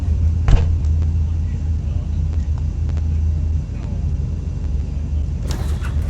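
An airplane lands in a video game, giving a constant loud, low engine drone. A short thump comes early on and a brief hiss near the end.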